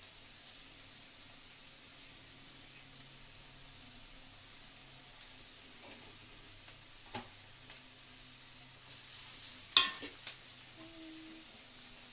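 Ground roasted coriander and cumin, along with turmeric, go into hot oil with taro greens, giving a soft, steady sizzle with occasional clinks of a spoon against the pan; no one talks.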